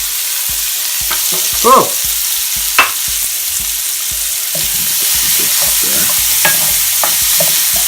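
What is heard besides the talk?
shallots and apples frying in a pan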